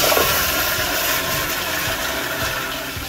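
A toilet in a men's room keeps running, a continuous rushing hiss of flowing water that holds steady at close range with no voices over it.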